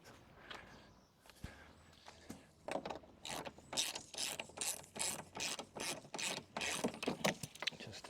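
Ratchet tool tightening the cover on an MM875 mulching lawnmower, a rapid series of close, crisp clicking bursts in quick repeated strokes, starting after a few soft handling noises, with no speech.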